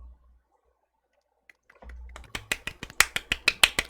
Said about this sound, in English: Everybody golf clap for Frosty